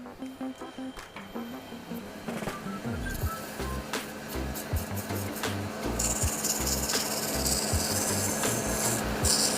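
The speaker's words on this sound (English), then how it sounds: "So we'll give it a good sand, then we'll give it a buff." A wooden knife handle being sanded, a steady close rasping and rubbing that runs throughout with some mechanical whirring and clicks mixed in.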